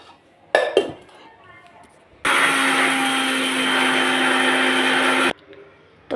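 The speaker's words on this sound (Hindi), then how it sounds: "मिक्सर डालती हूँ मैं ज़रा इस पर" Mixer grinder grinding rice in a home kitchen, a loud steady whir for about three seconds, preceded by a few clinks of the jar and lid and followed by a clatter.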